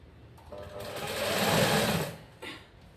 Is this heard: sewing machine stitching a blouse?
yes